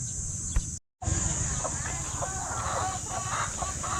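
Chickens clucking at a backyard coop on a small farm, with soft scattered clucks and murmurs over a steady hum, briefly cut out for a moment near the start.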